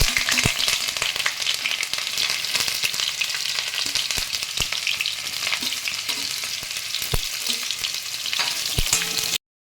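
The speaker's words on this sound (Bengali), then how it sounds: "এবার আমি ফুলকপিগুলো ছেড়ে দিচ্ছি, ভেজে তুলে নিই।" Cauliflower pieces frying in hot mustard oil crackle and sizzle steadily, broken by occasional clicks and scrapes of stirring, with no voices.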